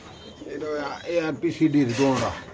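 Caged racer pigeons coo in soft rolling bursts close by, mixed with someone talking.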